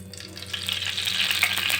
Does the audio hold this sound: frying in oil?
yes